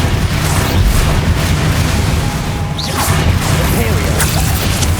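Bombarda blasting spell going off in Hogwarts Legacy during a wizard duel: loud, dense crashing and booming impacts over continuous combat din, with whooshing spell effects, close and forceful throughout.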